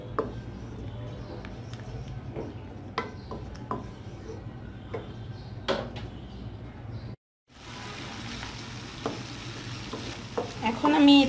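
Hilsa fish frying in a pan for a Bangladeshi mustard hilsa curry, a steady close sizzle with occasional stirring clinks, briefly cut off before resuming louder.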